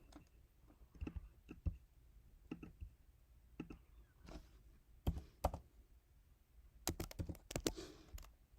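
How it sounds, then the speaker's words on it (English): Light plastic button clicks as numbers are keyed into a calculator, irregular taps in small clusters with pauses between them, close and quiet. "And we can type that in our calculator."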